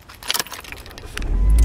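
Car keys jangle loudly for a moment, followed by a low rumble that rises and holds as the car's engine starts up nearby.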